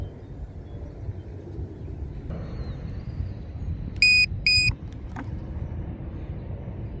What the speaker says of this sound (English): I'm hearing beeping, and then she wants to come down